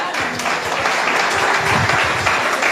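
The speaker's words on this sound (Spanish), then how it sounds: "dale un aplauso al Señor" A church congregation claps, a brief burst of thick, steady applause from many hands throughout, fairly loud and close.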